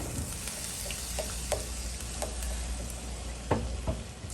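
BBQ sauce is stirred into sizzling melted butter for ribs, giving a steady close crackle with a few soft scraping stirs on top.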